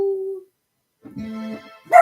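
A dog gives a short whimpering bark, a brief pause, then a longer whine and a sharp yip at the end, close and fairly loud, with no talk.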